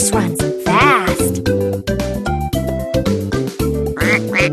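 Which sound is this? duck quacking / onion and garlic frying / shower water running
duck quacking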